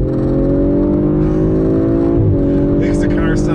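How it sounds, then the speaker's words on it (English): Engine and exhaust of a 2018 Audi RS 5 in track mode, a loud, steady drone that holds, dips briefly, then carries on, with a person talking over it. "track mode changes the exhaust note"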